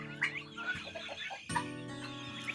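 Soft clucking and cheeping from turkeys and chicks nearby, a few short calls overlapping in a quiet village yard in Chuvashia.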